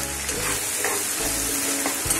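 Onions fry in oil for Kolhapuri misal, a steady close sizzle and crackle running throughout, with a few soft stirring scrapes and a light humming tone in the background.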